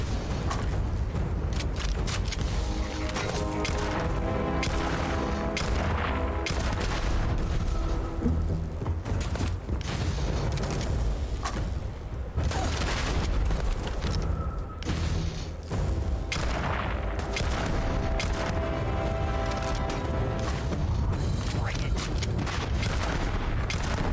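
Starfield video game combat: a long, loud barrage of booming grenade blasts mixed with rapid gunfire, dense and continuous with heavy low rumble and no talking.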